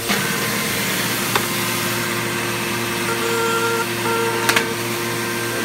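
A Baum Ultrafold paper folding machine runs with its air switched on, a steady mechanical hum and whir close by with a few faint clicks and ticks of sheets feeding through.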